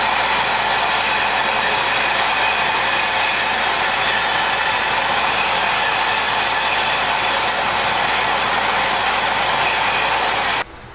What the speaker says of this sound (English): here's the header, just stood the saw up. Let's cut it.